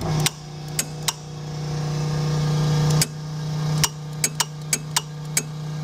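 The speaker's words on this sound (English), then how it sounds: "now you'll be able to hear the clutch engaging" Clutch on an Amtex Equipment Inferno Stack 3047 APO pump machine engaging: a steady close mechanical hum broken by a series of sharp, irregular clicks and knocks, with no talking.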